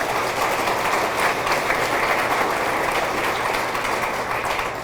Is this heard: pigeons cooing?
no